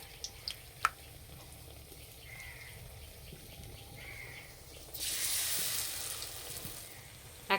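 Pumpkin flowers dipped in gram flour batter go into hot oil as fritters, a few soft clinks before a sudden bright burst of sizzling that carries on steadily.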